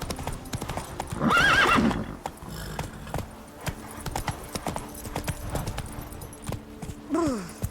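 Horse hooves in The Witcher 3 game, a steady clip-clop of a mount moving along, with a loud whinny near the start and another neigh at the end, fairly close and without speech.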